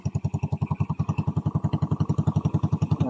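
A restored Suzuki Skydrive scooter engine runs at a steady idle nearby, a loud, even chugging pulse that repeats rapidly throughout without any talking.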